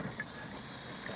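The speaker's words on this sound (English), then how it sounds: "Cold water flowing." Cold water running steadily from the tap of a 1993 Fleetwood Garland 165-4 touring caravan, a soft continuous hiss and trickle at low level with a few faint drips, no voices.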